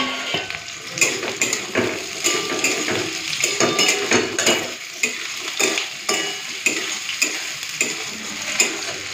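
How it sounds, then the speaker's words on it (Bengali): Green chillies, garlic and chopped onion fry in hot oil in a pan, with a constant sizzle under repeated scraping and clinking as a utensil stirs them close by. "কাঁচা লঙ্কা রসুনটাকে হালকা ভেজে নিয়েছি, এরপর দিয়ে দেবো পেঁয়াজ কুচি।"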